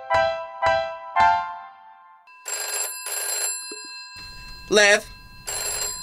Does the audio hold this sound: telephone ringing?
yes